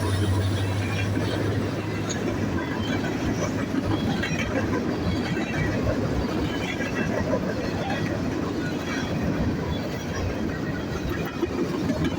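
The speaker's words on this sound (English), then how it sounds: "Our first train in Congers, New York." A train with an EMD locomotive rumbles past close by in Congers, New York, with a steady roar of wheels on track and rattling cars that continues throughout.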